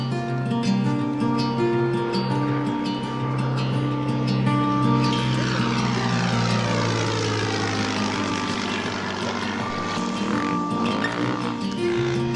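A propeller aircraft takes off on a flight toward Þingvallavatn in Iceland, its engine drone loud and steady throughout with a rising whine across the run, alone with no voices.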